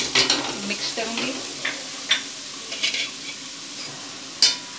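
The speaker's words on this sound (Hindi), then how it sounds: "मिक्स करूंगी।" Chicken and vegetable filling with green chillies being stirred in a hot pan, steady sizzling broken by repeated close scraping and clinking of a spoon against the pan.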